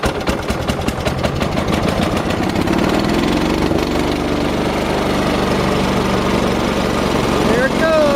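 A Bolens 1250 garden tractor engine idles loud and close, a steady low throbbing chug that continues throughout, with a voice talking over it.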